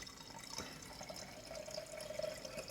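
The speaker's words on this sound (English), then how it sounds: "Just gonna pour it through this filter now and then wait." Melted ghee drips through a cone filter in a kitchen, making a faint, steady liquid trickle with a few soft drips and no talking.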